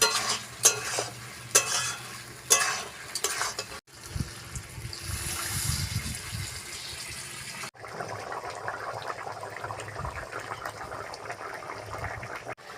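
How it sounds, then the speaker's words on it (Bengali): Water is poured into chicken curry cooking with potatoes, between stretches of spoon stirring and a busy, rushing splash in the middle, all fairly close and without talk. "এবার আমি জল ঢেলে দেব।"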